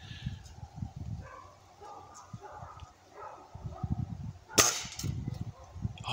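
A single sharp air rifle shot at a squirrel during an outdoor hunt, a brief crack near the middle, surrounded by low rustling and faint background sounds.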